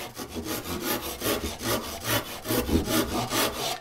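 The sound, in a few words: hand saw crosscutting wood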